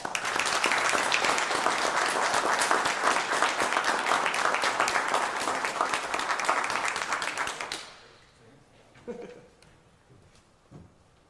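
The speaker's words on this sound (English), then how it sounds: "Let's give them a round of applause." A large audience applauds steadily for about eight seconds at a high school football rivalry celebration, a dense, even wash of clapping that stops abruptly, followed by faint scattered room sounds.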